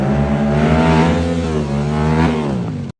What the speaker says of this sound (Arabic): الصوت فيها غير قابل للنقاش، الموتور كيغني